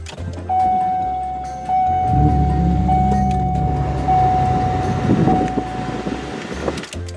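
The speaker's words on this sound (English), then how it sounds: "So we're inside the Buick. So I'm gonna start it up just so everyone can hear the sound." Buick car heard from inside the cabin: a dashboard chime tone rings, then the engine cranks and catches, settling into a steady low idle rumble that holds for several seconds before easing.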